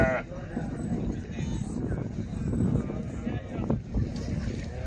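Sheep bleat at the Maştağa livestock market near Baku, the calls rising over a crowd of people talking and bargaining, with wind noise in the background.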